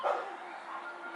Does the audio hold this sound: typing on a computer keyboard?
no